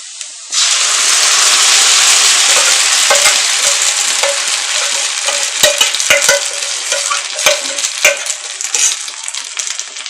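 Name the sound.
stirring ground batter into fried onions in pan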